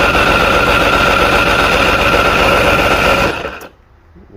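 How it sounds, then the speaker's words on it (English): An inline six-cylinder outboard motor cranks steadily on the starter during a compression test, a loud rapid chugging that runs for about three seconds and then cuts off into quiet. "Okay, so I'm gonna turn the key and hold it at the same time."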